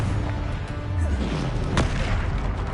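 Confringo spell explosion in Hogwarts Legacy, a heavy booming blast with rumbling low end and a sharp crack near the end, loud and close amid ongoing combat noise.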